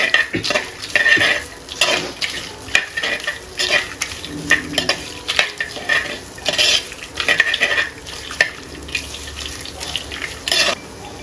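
Grated coconut being stirred and fried in a pan for a chicken fry, with repeated scraping and clinking of a utensil against the pan over a continuous sizzle, close and fairly loud, no talking.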